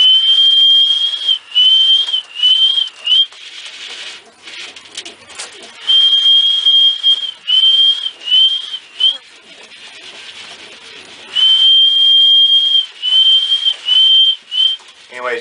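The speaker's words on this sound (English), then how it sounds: "you start whistling, and they get real excited" A person whistles to call homing and roller pigeons outdoors: repeated bright, sustained whistle notes in short bursts and longer runs, loud and close, with brief pauses and soft rustling between.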